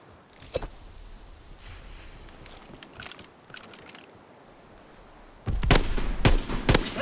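Flak gun firing at Stuka dive bombers in the World War II shooter Call of Duty: WW2, with a handful of loud, sharp blasts bursting near the end over steady battlefield rumble.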